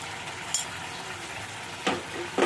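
Papaya and potato curry stirred in a frying pan, a soft continuous sizzle with a few brief scraping clatters of the spoon toward the end, quiet and close, no talk.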